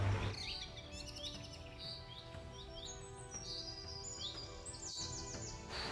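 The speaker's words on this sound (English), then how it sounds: "It's the same with the sound of the songs from the birds." Several birds sing in bright, repeated chirps and whistled trills, fairly faint over a soft background hum, with no voices.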